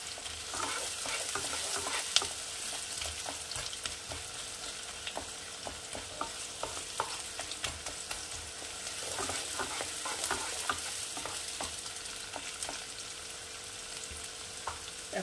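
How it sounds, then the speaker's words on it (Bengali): Chicken pieces fry and sizzle steadily in a hot pan for chicken tehari, with a continuous crackling hiss and occasional stirring scrapes and clinks, close and alone with no talk. "এটাকে একটু ভালো করে ভেজে নেব"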